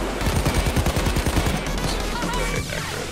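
Rapid bursts of sniper gunfire in the video game PAYDAY 2, a dense volley of sharp cracks in the first half that thins out toward the end, loud over a busy game mix.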